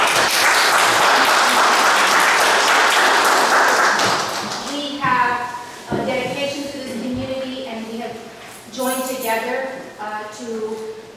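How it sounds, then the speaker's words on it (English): Audience applause breaks out at a city commission meeting, a dense burst of clapping for the first four seconds that then fades as a person begins speaking over a quieter room. "And Commissioner, if you will please give them a round of applause"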